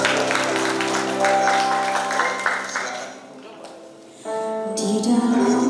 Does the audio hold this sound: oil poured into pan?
no